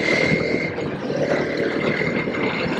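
A TVS Apache RTX 300 motorcycle engine runs close by at a steady, buzzing pitch for a few seconds, without clear rises or dips in revs.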